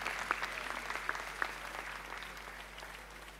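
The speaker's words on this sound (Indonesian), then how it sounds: "Sekali lagi berikan tepuk tangan yang luar biasa." Audience applause at an MNC Group Christmas Eve church service in 2023, a steady wash of clapping from a large congregation, even and sustained with a few sharper claps near the start, fading slightly toward the end.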